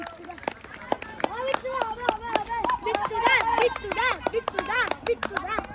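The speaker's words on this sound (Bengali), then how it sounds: "সবাই সবাই হাততালি উৎসাহিত করো" Children clap in scattered, uneven claps at a school winter sports event on a playground, the sharp hand strikes mixed with lively young voices shouting and chattering throughout.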